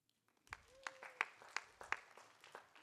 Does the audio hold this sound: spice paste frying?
no